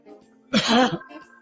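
A single harsh cough, short and close, standing out against quiet background.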